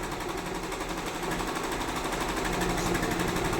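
A computerized embroidery machine stitches a saree border with a loud, steady rapid mechanical chatter that runs unbroken throughout at close range.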